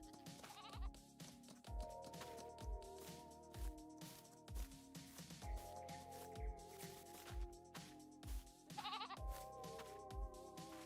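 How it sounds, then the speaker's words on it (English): Goats bleat again and again in Farming Simulator 22. The calls are loud and close and overlap one another, with repeated soft thuds and a steady background hum underneath. "It's the first farming simulator to have goats as a base game animal, but lucky we got goats in here."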